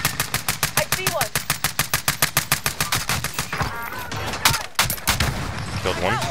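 Rapid automatic gunfire in Call of Duty Warzone rattles off in a fast, steady string of loud shots, then breaks into scattered bursts while players talk over it.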